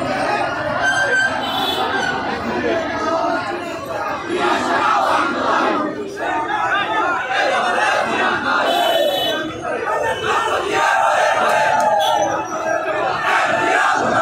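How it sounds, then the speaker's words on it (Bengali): A large rally crowd chants political slogans against Jamaat-Shibir in unison, loud and close, with shouted voices filling the whole stretch without pause. "নানা স্লোগানের পাশাপাশি জামাত শিবিরের সংগঠনটির বিরুদ্ধেও তারা স্লোগান দিচ্ছে"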